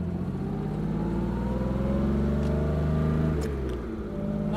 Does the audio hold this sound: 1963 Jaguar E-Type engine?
yes